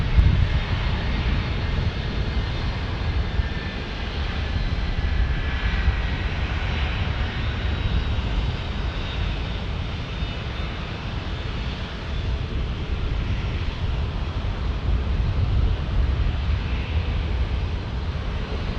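American Airlines jet airliner rolling down a long airport runway, a steady broad engine roar and rumble that holds at a constant level throughout, with no talking.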